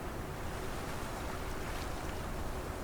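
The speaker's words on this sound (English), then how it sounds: "The only sound is the soft lap of water against water." Soft sea water laps gently against itself in open water, a continuous hushed wash of broadband noise with no distinct splashes, steady and quiet.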